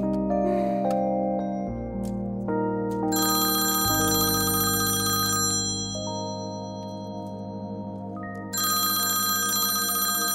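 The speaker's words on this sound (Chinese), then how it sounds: "接呀，你不是一直在等他电话吗？" A telephone sounds a loud, melodic ringtone for an incoming call, its tones shifting and repeating, pausing briefly before ringing again, close and clear with no voices.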